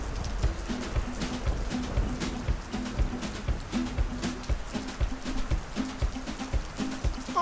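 Steady rain patters and splashes on a surface as a sound effect in a toy pretend-play scene, a dense and continuous close wash with no voices.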